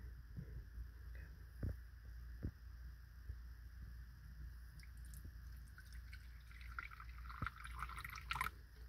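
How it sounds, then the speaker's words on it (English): Water trickling and dripping into a crested gecko enclosure, faint and close, with a few scattered soft drips and splashes over a quiet background hum. "we're going to do a little bit of water here without disturbing anybody."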